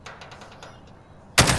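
Gunfire in a shooter game: a rapid run of faint shots at the start, then a sudden loud close blast right at the end.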